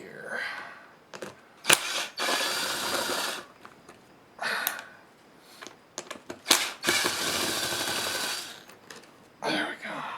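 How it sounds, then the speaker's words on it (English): A driver spins screws out of thin sheet metal under the seat cushion of a 1986 Jeep XJ, giving several short bursts of buzzing motor whir separated by clicks, rattles and handling noises. "turn on your driver the right way, because this is pretty thin sheet metal that these are screwed into"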